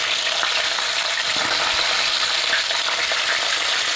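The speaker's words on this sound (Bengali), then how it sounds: "এগুলোকে আমি আস্তে আস্তে করে ভেজে তুলে নেব।" Pieces of catla fish, tail piece included, frying in hot oil: a loud, dense, continuous sizzle that stays even from start to finish, close up and with no voices.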